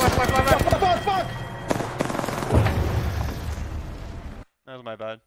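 Dense gunfire from the Apex Legends video game rattles in rapid bursts with booming impacts under excited talking, then cuts off abruptly, leaving one voice speaking briefly alone.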